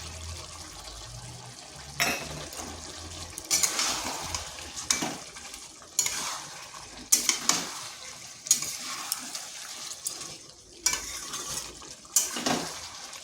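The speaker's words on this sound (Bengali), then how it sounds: "ভালো করে মশলার সাথে মিশিয়ে নিচ্ছি।" A spoon stirs chicken biryani with biryani masala in a pan, giving repeated scraping, sizzling strokes in an uneven rhythm, close and fairly loud, with no talking over it.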